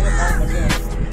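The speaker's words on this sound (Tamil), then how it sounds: "காலையிலே உங்களை தேடி காக்கா வந்துடும்" Crows cawing loudly and close by, several harsh calls in quick succession over a busy outdoor background.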